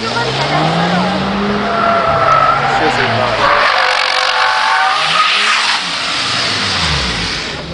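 Volkswagen tires squeal and skid loudly alongside a revving engine, a long continuous screech with people talking over it.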